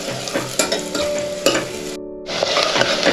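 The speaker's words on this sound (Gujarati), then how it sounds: "ડુંગળી આપણે ફાસ્ટ ગેસ પર જ ફ્રાય કરવાની છે" Onions frying hard over high heat in a pressure cooker, stirred continuously, make a loud dense sizzle with scraping stir strokes, broken by a brief pause before resuming, no speech.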